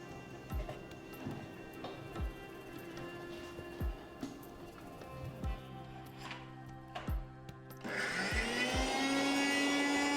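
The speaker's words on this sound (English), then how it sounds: "Now grind the chopped apples and beetroot together into a smooth puree." Chopped apples and beetroot are ground into a puree in a kitchen grinder, with scattered knocks and clatter before the motor whirs up to a loud, steady rising whine for the last couple of seconds.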